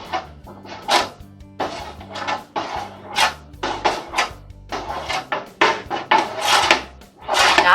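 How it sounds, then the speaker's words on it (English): A spoon scrapes and clanks around a metal pot as sugar gets stirred into homemade ketchup, loud irregular strokes and knocks in a kitchen with no talking. "We're going to stir that all in real good."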